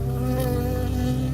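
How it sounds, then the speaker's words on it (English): Close insect buzzing fills a short moment in the video game Firewatch, a steady droning hum from a bee that holds level throughout with no talk over it. "I got stung by a bee."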